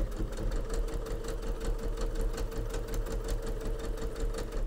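A sewing machine stitches a pinned seam on a sewing machine mat, a continuous close, rapid rhythmic needle chatter over a low motor hum, steady and loud throughout with no talking.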